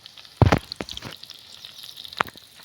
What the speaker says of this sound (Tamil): இப்போ நல்லா பொரிஞ்சதும் கருவேப்பிலை 1 கொத்து சேர்த்துக்குங்க